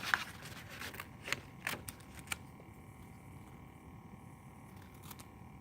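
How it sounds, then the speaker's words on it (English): Scissors cut out paper turkey parts for a kindergarten cut-and-paste craft, making a few quick, crisp snips near the start before the room falls quiet. "you are going to again use your scissors and cut them out just like you did with the body and the neck"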